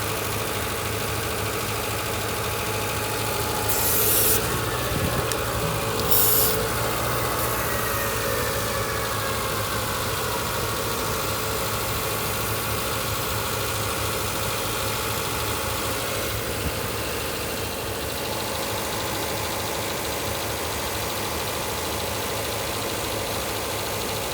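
Engine of a 2004 Toyota RAV4 idling steadily during fuel injector cleaning with a cleaning kit, a low continuous hum with a faint uneven knock, heard alone without talk.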